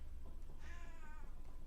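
A pet cat lets out a single drawn-out meow, faint and somewhat distant, over a steady background hiss.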